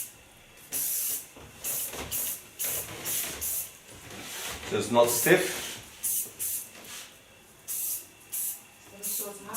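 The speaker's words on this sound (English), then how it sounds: "Then a little bit flex spray. Flex spray is a spray you can play with." Flex hair spray hissing from a can during a haircut, in repeated short bursts with gaps between them, close and loud, while a person talks over and between the sprays.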